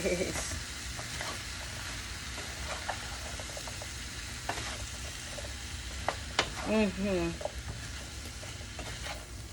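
Sweet potatoes fry in a pan as a spoon stirs them, with a soft continuous sizzle broken by scattered knocks and scrapes of the utensil, close by, with a short faint voice-like sound near the end.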